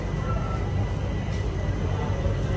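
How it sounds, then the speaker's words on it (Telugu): Steady low rumble of a passenger train rolling out of Bina Junction, the Andaman Express, a continuous broadband roar heard from inside the coach with no distinct clacks. "బీనా నుంచి మన ట్రైన్ బయలుదేరింది"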